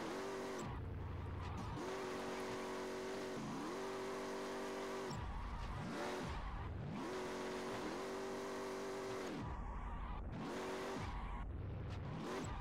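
A large, boat-like car drifting in the video game Drift Paradise, its engine droning and rising while tires squeal in long repeated slides, loud and close throughout.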